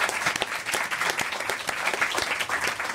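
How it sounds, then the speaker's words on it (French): A theatre audience claps in a dense, steady burst of applause lasting the whole moment, with no voices standing out. "Bravo, on vous applaudit, Jean-Louis Hecht."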